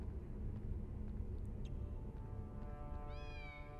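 A single drawn-out cat meow from the video game Harry Potter and the Philosopher's Stone on PlayStation sounds near the end above a constant low rumble, fairly quiet and with no voices.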